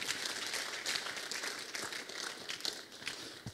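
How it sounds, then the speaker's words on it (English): Scattered audience applause at an awards grand finale ceremony, a fairly faint, steady wash of clapping from a crowd in a hall lasting the whole stretch. "I would like you to clap a little more for the president."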